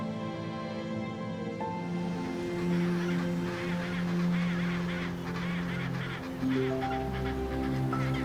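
A penguin colony in the Southern Ocean region gives loud, harsh, braying calls, overlapping honks that swell and fade close by, with no talking.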